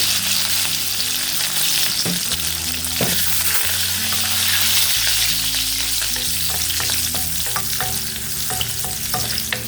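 Oil sizzles steadily as lengthwise-sliced garlic fries with cumin and curry leaves for brinjal fry, with scattered sharp crackles and occasional stirring clicks throughout.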